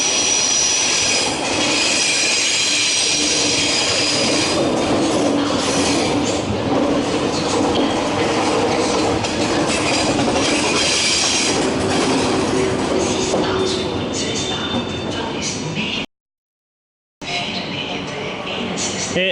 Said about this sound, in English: This train's about to leave for Strasbourg.